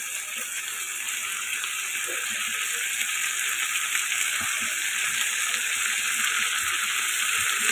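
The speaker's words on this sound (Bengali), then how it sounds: "আমি মাছগুলো ফ্রাই করে নিয়ে আসছি" Stinging catfish (shing fish) lightly frying in a pan gives a steady, even sizzle with faint crackles, continuous and close, with no voices over it.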